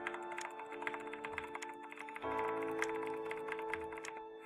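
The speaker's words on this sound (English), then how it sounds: "My keyboard is very loud." A loud computer keyboard clatters in quick, uneven bursts of keystrokes over a low background hum, with no talking.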